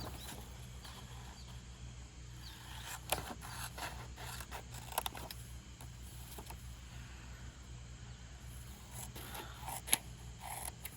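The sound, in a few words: trimming a paper journaling tag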